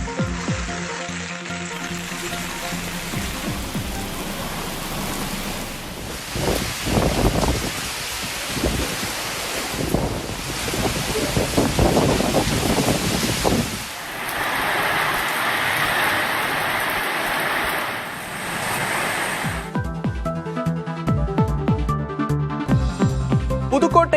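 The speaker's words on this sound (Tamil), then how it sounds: "நெல்லை, மதுரை, தேனி உள்ளிட்ட பல்வேறு பகுதிகளில் கனமழை" Heavy rain with strong wind in Melur, dense noisy downpour and gusting roar that shifts in intensity across the stretch, with tonal broadcast sounds layered on top.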